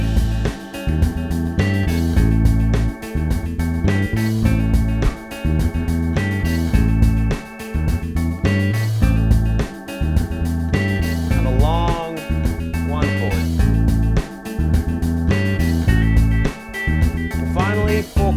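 A bass guitar plays a blues line that stays on the one chord for eight bars, in steady, loud, rhythmic notes with a few sliding bends and no talking over it.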